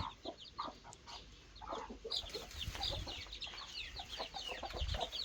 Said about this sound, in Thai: นี่เป็นไก่น้อยกำลังเพาะใหม่